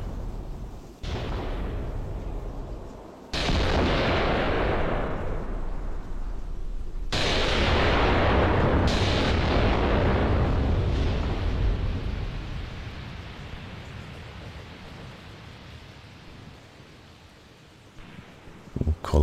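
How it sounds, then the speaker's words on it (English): An artillery bombardment in a video game: heavy booms land one after another and merge into a loud, continuous rolling rumble that slowly fades, with no voices. "We'll call off the artillery before long."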